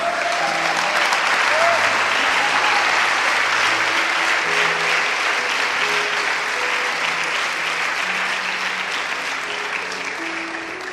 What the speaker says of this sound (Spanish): Dale una ofrenda de palmas a Él.